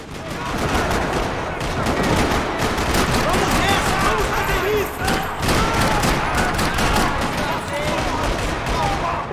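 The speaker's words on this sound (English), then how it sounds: "Another parking lot rattling with gunfire." Dense, continuous video-game gunfire in Max Payne 3 rattles nonstop in a parking lot, rapid automatic bursts layered over each other, loud and chaotic with a brief lull midway.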